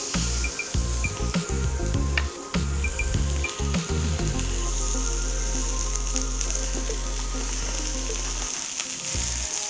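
Seasoned catfish fries in oil in a pan, giving a steady, loud crackling sizzle throughout, with a low rumbling hum underneath.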